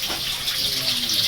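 Water runs from a tap in a provincial Philippine home, a close, steady gushing stream heard on its own for just over a second.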